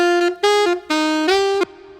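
Saxophone line from a finished song, played dry without an amp-style saturator: a clear run of sustained, slightly bending notes in close succession, smooth and somewhat dark, heard alone with no talking.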